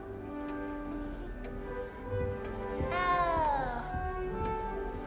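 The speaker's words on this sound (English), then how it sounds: "You don't need to be frightened, little cat." A cat in Hogwarts Legacy gives one drawn-out, rising-then-falling meow over soft, steady background music with light ticking.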